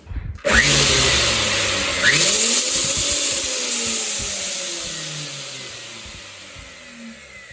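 A Silver Crest heavy duty power grinder switched on with its lid removed, a loud high-pitched motor whine spinning up abruptly, briefly surging again, then slowly winding down as it coasts to a stop, close and alone.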